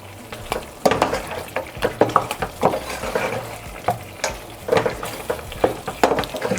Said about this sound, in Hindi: यहाँ पर अब हम अपने मसालों को अच्छे तरीके से 2 मिनट गोश्त के साथ भूनेंगे